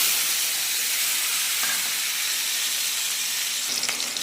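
Taro paste frying in a pan with black cumin and green chilies, a steady broadband sizzle and hiss that holds even throughout, close and fairly loud with no talking.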